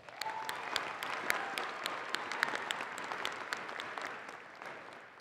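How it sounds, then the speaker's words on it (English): A large audience at a university commencement claps in a steady, sustained round of applause, with crisp individual claps standing out against the dense wash of hands for the whole stretch, and no voices. "One more round of applause."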